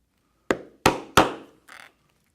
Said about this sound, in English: On this piece, we will punch 4 holes for our rivets as shown on our pattern